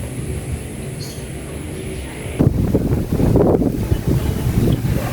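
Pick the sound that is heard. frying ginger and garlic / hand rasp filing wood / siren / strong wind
strong wind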